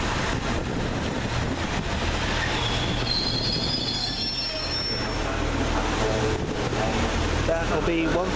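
A train, numbered 185135, rumbles steadily into a platform at Huddersfield station with high metallic wheel squeals rising midway, a continuous loud rail noise with faint voices mixed underneath.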